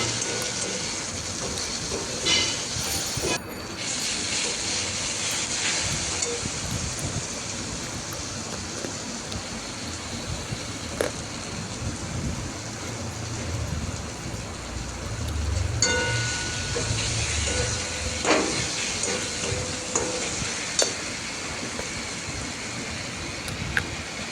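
Water poured into frying spice masala for a chilli fish dish sets off a steady, close, hissing sizzle that crackles on throughout, with a few clinks along the way.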